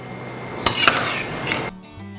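Boiled soya chunks tipped into a vessel, with a short burst of metal clinks and scraping lasting about a second, close and fairly loud, then quiet.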